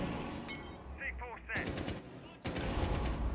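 Bursts of automatic gunfire in Rainbow Six Siege ranked play, with loud rapid volleys cutting in and out, one near the start and another sustained burst toward the end, and some voice chat mixed in.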